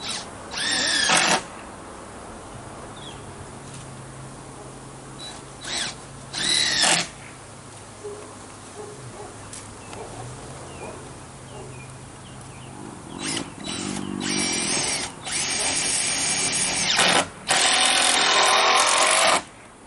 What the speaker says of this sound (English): Now I'm just going to screw it to the